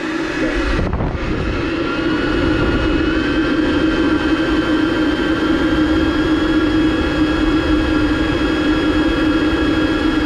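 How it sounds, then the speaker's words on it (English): A homemade air cooler fan with a much larger motor runs with a loud, steady whooshing roar and a faint tonal whine, holding constant after a brief thump near the start, with no talking. "Now we're going to test this guy out, which is my homemade one. Much larger motor."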